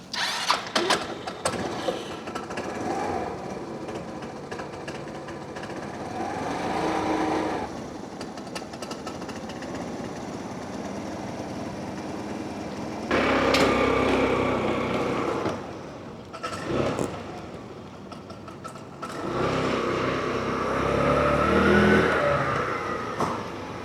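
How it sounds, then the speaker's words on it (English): A small motorbike engine warming up on choke runs rough and uneven, sputtering and surging in bursts as it idles and revs, fairly close, with no talking. "now I can choke the engine to get it warm"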